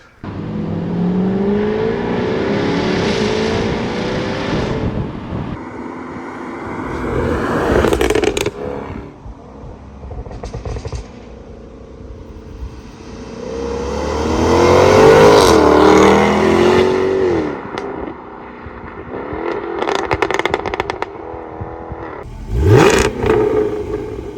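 Stock exhaust of a Jaguar F-Type V8 revving hard, with throttle blips and climbing engine notes rising and falling across several loud bursts, close by and with no talking.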